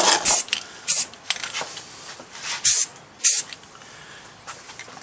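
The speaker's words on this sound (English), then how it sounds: "give it a little spray" Several short bursts of aerosol spray paint hiss in quick succession, close by, lightly spraying a skull, with brief pauses between them.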